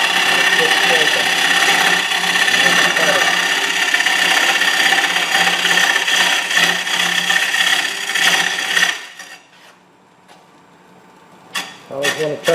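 A lathe tool scraping wood while a natural edge bowl is turned, giving a continuous loud rasping scrape for about nine seconds, then near silence broken by a few brief knocks.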